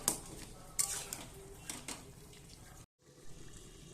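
Boiled cabbage being stirred into a pan of braised fish head, with wet scraping clatters and a few sharp utensil knocks against the pan, close and fairly quiet, with a brief pause near the end.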